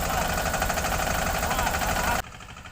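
Messy 5118 and Steeltrac 15 hp tractor engines run together at 1500 rpm in second gear, a close, loud, steady mechanical drone that cuts off abruptly near the end, leaving only faint background.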